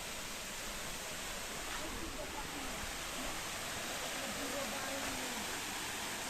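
A waterfall at Tapoban Mahima Ashram in Dhenkanal, Odisha, gives a steady, dense rush of falling water that stays even and loud throughout, with no pauses or distinct splashes.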